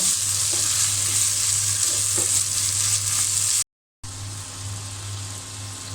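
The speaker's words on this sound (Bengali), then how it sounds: "আমি এখন আদা বাটা জিরা বাটা আর বাটা দিয়ে দিলাম এখন আমি পেঁয়াজের সঙ্গে ভালো করে একটু" Onion with ginger and cumin paste sizzles steadily in a pan while being stirred, a close, even frying hiss with a brief gap of silence partway through.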